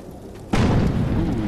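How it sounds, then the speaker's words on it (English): A single sudden blast from the Defiance video game kicks in partway through, then rolls on as a loud, dense rumbling roar that stays high for the rest of the moment. "Ooh, explosion."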